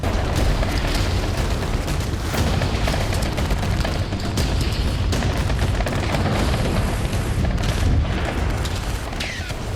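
Explosions and gunfire erupt near a tunnel during an attack on Israeli troops in a Hamas stronghold in Gaza, a dense continuous barrage of booms and bursts that stays loud throughout.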